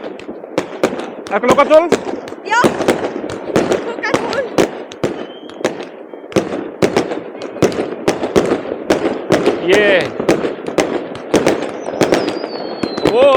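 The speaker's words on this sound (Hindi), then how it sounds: "और ये पटाखे चलने स्टार्ट हुए हैं।" Firecrackers and fireworks bang repeatedly in sharp, irregular bursts, some close and loud, with crowd chatter and voices talking throughout, at a crowded bridge on New Year's in Norway.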